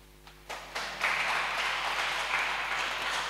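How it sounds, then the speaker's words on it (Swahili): A church congregation claps together during a morning worship service, the applause starting sparse and swelling within the first second into steady, dense clapping that holds to the end. "Hayo makofi sio ya watu wanaotaka mkesha."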